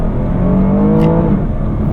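A 2016 Porsche Panamera with a 3.6-liter V6 engine accelerates hard, its loud, smooth engine note holding a steady rising drone close to the microphone, with a brief whoosh midway.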